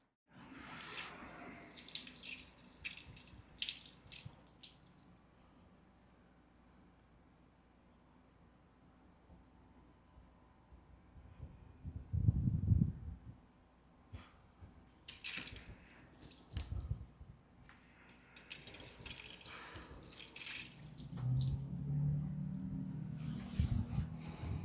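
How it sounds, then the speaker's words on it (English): Water sheeting and running off a car's paint coated with a Vonixx protectant, soft hissing spray bursts and splashing rinse flow in several separate passes, fairly quiet with pauses between. "let's check out the water behavior after I have applied this product onto the vehicle"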